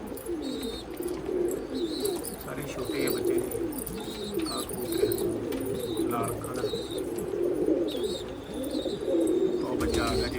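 Pigeons and their chicks coo in a loft, a steady low warble of overlapping calls with occasional higher chirps throughout, fairly close and continuous.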